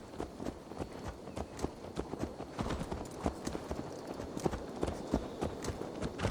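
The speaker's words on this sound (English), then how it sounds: "Let's return the horse." Steady clip-clop of horse hooves walking on a hard surface in the video game Assassin's Creed Valhalla, quiet and even-paced, with a faint ambient hum beneath.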